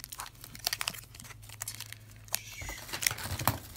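Crinkly plastic rustling and a few sharp tearing crackles as a trading card pack wrapper is torn open, close up, with a brief ripping sweep partway through and no talking.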